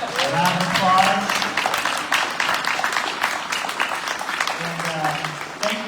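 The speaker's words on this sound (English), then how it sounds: "Can we all give Mike Goodman a round of applause?" Applause from an audience at a community information session breaks out as a scattered round of clapping, moderately close, with voices talking over it throughout.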